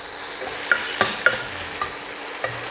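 Onion and curry leaves sauté in hot oil for Karaikudi tomato chutney, giving a steady close sizzle broken by a few soft ladle clicks and stirring scrapes.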